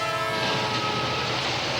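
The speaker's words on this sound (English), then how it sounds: "when a large train faces off against a smaller vehicle" A large train runs along a railway track in a steady, loud, continuous rumble with sustained tonal horn-like hum, heard alone without voices.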